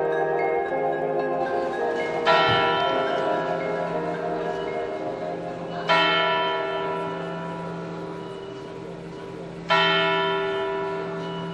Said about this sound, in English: This is the Zeitglocke, a German word that means time bell.